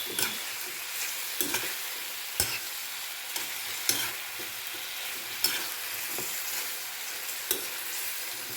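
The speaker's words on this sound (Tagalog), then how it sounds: "Maglagay na tayo ng haluin muna natin para ma-mix ang soy sauce." Chicken feet being stirred with soy sauce in a pan for adobo, giving a steady low sizzle broken by about a dozen sharp scraping strokes of a utensil against the pan, with no talking.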